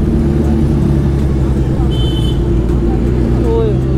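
Kawasaki Z900 superbike exhaust, a deep bass-heavy engine note rumbling steadily and close throughout with smooth, restrained loudness, while people talk over it.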